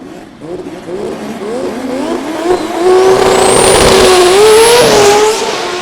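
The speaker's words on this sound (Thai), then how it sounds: "นี่คือเสียงออกตัวที่ดีที่สุดแล้ว" A drag race car, No. 120, revs hard on the line and then surges away, its pitch climbing through the gears with a brief tire squeal, loud and close.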